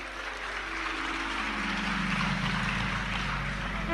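An audience claps at a Hindi religious discourse on Chaitra Navratri, a steady dense wash of applause that holds at a constant level throughout, with no single claps standing out.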